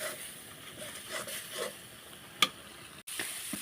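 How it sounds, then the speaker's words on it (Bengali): Meat for a spicy pitha filling stirred and fried in a pan, with a continuous low sizzle, soft scraping strokes of the spatula and a sharp clink of utensil against pan. "আমি ভালোভাবে নেড়ে চেড়ে ভাজা ভাজা করে নেব"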